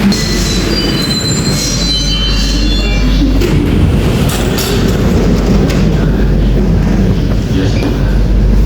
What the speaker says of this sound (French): Regardez, on est dans le métro